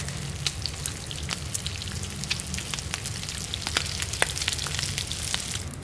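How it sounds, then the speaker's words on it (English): Meat cooking over a campfire in The Long Dark, a steady crackling sizzle with scattered sharp pops and ticks running throughout, fairly close and alone with no voices. "Let's cook this meat."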